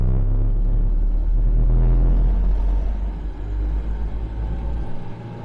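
Deep, steady engine rumble of a Reliant car driving in third gear, a loud low drone that eases and softens toward the end, with no talk.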